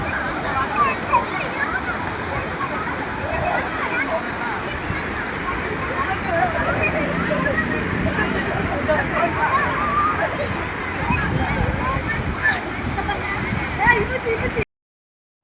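People splashing and slapping water while playing at a temple outing: continuous loud sloshing and splattering across the whole stretch, dense and close, with the broadband wash of moving water throughout.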